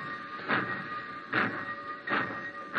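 A black train pulls out of a station in a radio drama sound effect: rhythmic steam chuffs about a second apart over a steady mechanical hum, moderately loud, with no talking.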